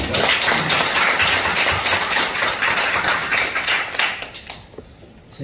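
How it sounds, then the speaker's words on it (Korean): A church congregation applauds, a steady wash of many hands clapping loudly for several seconds before tapering off and fading toward the end. "박수로 하나님께 영광을 드리겠습니다."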